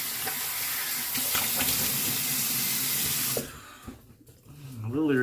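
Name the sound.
water running from tap, rinsing razor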